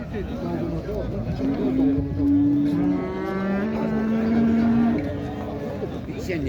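A calf at a livestock market in Xaçmaz gives long, drawn-out moos close by, with a busy market background.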